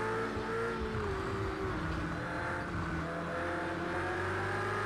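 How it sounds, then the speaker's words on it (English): Race car engines roar in the Project Cars 2 video game, a steady loud drone with a rising and falling engine note as a Porsche overtakes under yellow flag conditions. "Oh, the Porsche going overtaking us."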